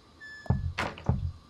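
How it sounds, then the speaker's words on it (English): Knocking on a door in the horror game Unheard: Mental Hospital, heard as two dull, solid thumps about half a second apart, close by, with a faint ambient tone underneath and no talking. "Who's that knocking?"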